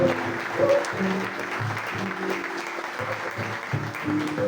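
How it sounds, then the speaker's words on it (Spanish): Sustained applause from a church congregation, steady clapping filling the space for several seconds with a faint tonal hum underneath. "Un aplauso para Dios."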